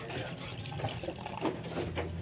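Water is poured into a drinking glass to fill it halfway, a soft, close liquid trickle with a faint rising gurgle under a low room hum.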